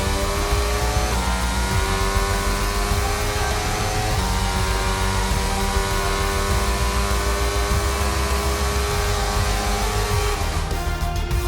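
Formula 1 race car in the F1 22 video game cruising back after the Australian Grand Prix, its engine a steady loud drone that rises and falls in pitch through gear changes, with no talking.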